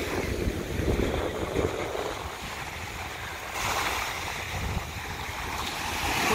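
Boats out on the sea near Miami, with waves washing and wind buffeting the microphone in a steady broad rush, outdoors and fairly loud, with no talk over it.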